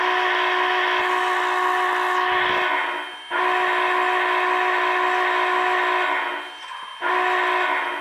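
A steady, tonal model train whistle, an MTH Big Boy locomotive, blows in long sustained blasts, cutting off briefly twice, with a soft hiss of smoke underneath; close and fairly loud.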